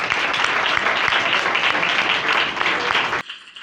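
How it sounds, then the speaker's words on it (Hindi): Audience at a Karachi church worship service claps for a young worship singer, a dense, steady burst of applause filling the room for about three seconds before cutting off abruptly. "खुदा के इस खादम अपने बेटे के लिए ताली बजाना चाहता हूँ।"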